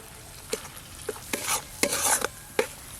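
Caramel for misti doi bubbles quietly in a pan, with a faint low hiss under a handful of separate soft pops and scrapes that come every half second or so, close and with no talking.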